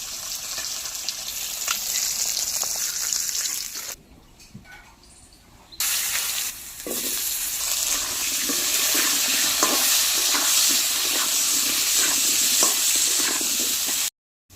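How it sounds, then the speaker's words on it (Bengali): Potatoes frying whole in hot oil until reddish-brown produce a loud, continuous sizzle with crackles, broken by a short quieter pause before the frying noise resumes. "এবার ওই একই তেলে আমি আলুগুলো ভেজে নেবো লাল করে"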